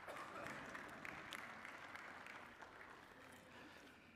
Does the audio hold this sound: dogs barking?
no